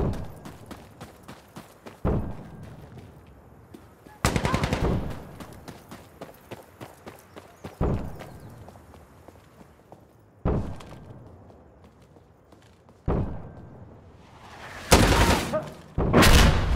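Explosive rounds in Insurgency Sandstorm land as a series of dull booms and thuds spaced a few seconds apart, with some seeming distant and others closer and louder.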